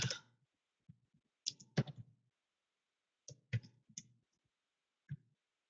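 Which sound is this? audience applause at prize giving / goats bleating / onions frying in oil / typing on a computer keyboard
typing on a computer keyboard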